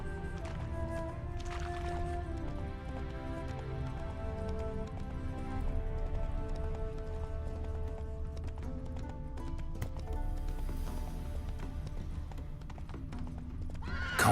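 Hooves clip-clop steadily in The Witcher 3 as a horse carries its rider along a road, with a whinny rising partway through, all set over a constant low ambient game rumble with no speech.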